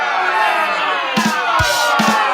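A crowd cheers and whoops loudly and continuously, with several punchy thumps cutting through the roar of many voices.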